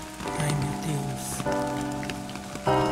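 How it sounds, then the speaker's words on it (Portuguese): Heavy rain pours steadily on a surface, a dense continuous hiss with sustained tonal music layered over it throughout. "que chuva forte"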